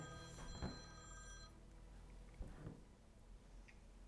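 A telephone rings with a bright electronic trill for about a second and a half, then falls quiet as faint handling knocks follow in a quiet room.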